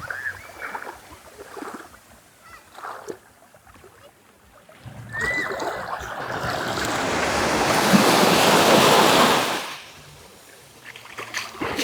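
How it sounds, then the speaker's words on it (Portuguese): Surf washing onto Praia do Sul, a clear-water beach on Ilha de Jaguanum, with a wave building and breaking loudly in the middle and fainter wash and wind noise before and after. "Mais uma praia de água clarinha, cristalina aqui na Ilha do Jaguanu."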